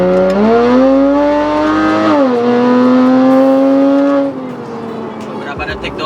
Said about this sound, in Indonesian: Pelan-pelan kita akselerasi ya.